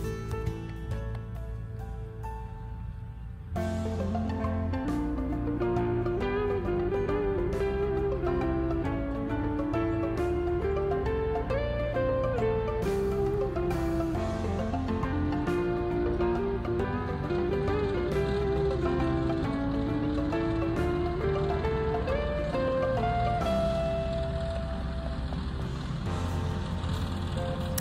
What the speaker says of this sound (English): the noise you hear is my husband driving by in the water truck